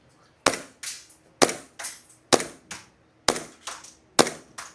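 An airsoft Glock pistol is test fired, giving about eight loud, sharp cracks in pairs at a steady pace, close by, with no talking.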